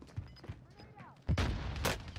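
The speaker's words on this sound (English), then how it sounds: "He's shooting at me." Gunfire in a ZLeague tournament video game match, a few faint shots early, then a louder burst of shots and impacts in the second half, with some voice in the background.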